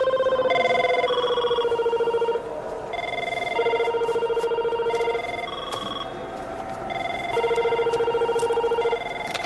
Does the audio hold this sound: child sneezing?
no